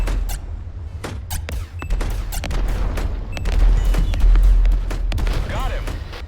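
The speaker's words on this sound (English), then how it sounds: "fire phasers!" Repeated sci-fi phaser blasts in the space combat game Galactic Outlaws, a dense run of sharp bursts over a low rumble, with a commentator talking over the action.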